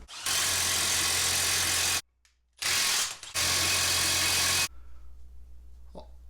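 A ratchet cranks down a wheel hub nut during a 5-lug conversion with budget brakes, in two long, loud bursts of rapid clicking close to the mic, split by a short pause, then quiet.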